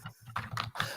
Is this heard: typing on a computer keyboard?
yes